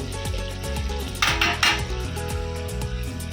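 A metal spoon stirs eggplant and potato palya in a pan on the stove. Close scraping and clinking comes in a rhythmic series, with two brighter scrapes near the middle and no speech.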